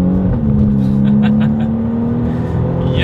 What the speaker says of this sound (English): Let's do a quick little acceleration in this thing.